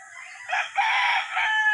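A straight-breed rooster at a farm crows loudly and close, one drawn-out call rising and holding with a slightly rough, bright tone.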